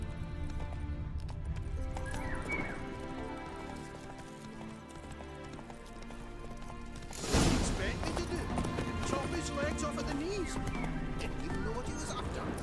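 Horse hooves clip-clopping on a path in The Witcher 3, a steady rhythmic gait, moderately close, joined by a sudden louder thump and rustle midway, with a speaking voice over it.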